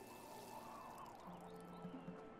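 Soft pouring and trickling water from a watering can sprinkling crops in the farming video game Wylde Flowers, faint and steady with light game ambience and a few small chirps.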